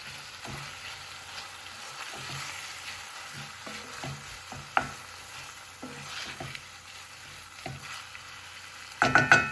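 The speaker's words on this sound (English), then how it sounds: "And then I'm also going to add my red chili pepper and my black pepper. That goes in there. Let's give it a stir." Red chili and black pepper being stirred into a frying pan for Indian ginger cardamom rice, with soft scraping strokes and a steady low sizzle, close and fairly quiet, a brief clatter of utensils near the end.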